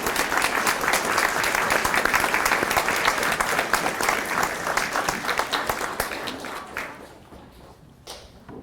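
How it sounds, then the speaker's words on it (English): Audience applause for the faculty at a graduation ceremony, a dense, steady round of clapping from a large crowd that holds strong for about six seconds, then thins and fades out, with a few scattered claps at the end. "I'd like to ask us to give the faculty a big round of applause"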